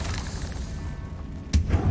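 A Confringo fire spell from Hogwarts Legacy bursts into a sharp, booming explosion near the end, with a second smaller thump after it over low ambient rumble.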